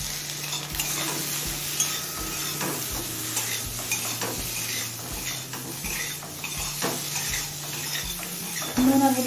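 Mustard greens with brinjal, chilli, turmeric and salt frying in a pan while being stirred: a soft continuous sizzle under regular, repeated scraping strokes of a spatula, close by and without speech.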